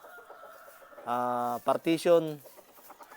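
A gamefowl rooster lets out a short, strained crow followed by a few loud squawks, with someone talking quietly before and after.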